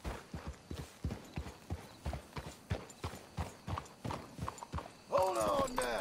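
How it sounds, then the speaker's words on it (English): Horse hooves clip-clop in Red Dead Redemption 2 in a close, steady rhythm of regular beats. A voice cuts in near the end as the hoofbeats stop. "Let's hitch your horses up ahead."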